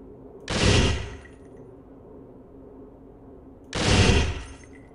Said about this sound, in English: The M4 fires in semi and full auto modes